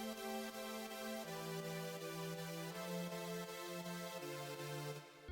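Sustained synth chords from a hype-drop song, following the same progression as the opening guitar, play loud and steady with chord changes every second or so, no voices over them.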